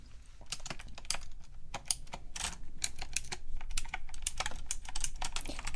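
Rapid typing on a computer keyboard, close and crisp, with irregular bursts of key clicks running steadily throughout, no talking.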